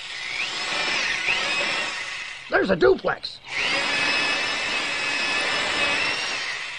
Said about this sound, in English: Sure, with the old power drill here.